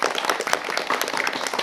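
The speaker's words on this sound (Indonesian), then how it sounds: "Mana tepuk tangannya?" Pupils and audience at a primary school event give a brief round of applause, quick dense clapping close by lasting under two seconds.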